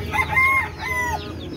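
Chickens cluck and a rooster crows at a backyard chicken coop during morning feeding, with two drawn-out crowing calls close by over a steady farmyard background.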